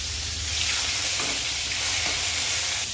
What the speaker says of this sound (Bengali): এবার করলাটা ভেজে নেব।